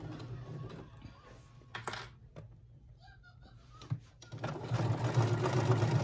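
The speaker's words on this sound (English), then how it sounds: "I use my sewing machine for this part." A sewing machine stitches a leggings waistband with a triple straight stretch stitch. A few quiet clicks come first, then a close, steady mechanical whirring run near the end.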